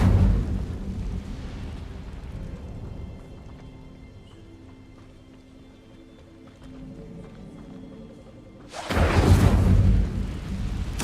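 An Incendio fire spell in Hogwarts Legacy bursts with a sudden loud whooshing roar near the end, after a low rumbling stretch of ambient game sound.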